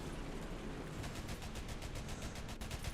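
A tank's machine gun firing in War Thunder, with the AC IV Thunderbolt Australian tank, a rapid even burst of loud, dense shots that picks up about a second in and carries on steadily.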